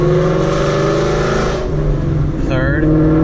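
A car with a very loud aftermarket exhaust accelerates up through the gears, its engine droning loud and close with rising harmonic tones and a shift near the end, while a voice speaks over it.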